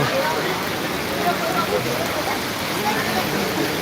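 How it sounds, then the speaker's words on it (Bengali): Heavy rain pouring at Belur Math during Durga Puja, a thick, unbroken wash of hiss and drumming that stays loud and even from start to finish. "যাক মুসলধারে বৃষ্টির আগে চলে আসলাম সেটার নিচে"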